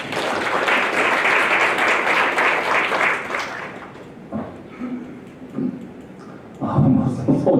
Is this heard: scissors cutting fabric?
no